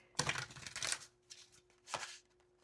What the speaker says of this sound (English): now I'm gonna go in with the deck you chose, give it a little shuffle